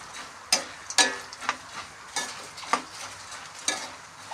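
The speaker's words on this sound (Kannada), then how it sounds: "ಈಗ ಕರಿಬೇವು, ಮೆಣಸಿನ್ಕಾಯಿ, ಒಣ ಮೆಣಸಿನ್ಕಾಯಿ ಹಾಕಾಕತ್ತೀನಿ ನೋಡ್ರಿ. ಹಾಕಿ ಅದನ್ನ ಸ್ವಲ್ಪ ಎಣ್ಣೆಗನ ಕರ್ಕೊಂಡು ಬಿಡೋಣ್ರಿ." Curry leaves, green chillies and dried red chillies dropped into hot oil for a pepper poha tempering, giving a few sharp crackling bursts and spits over a low steady sizzle, close by with no talking.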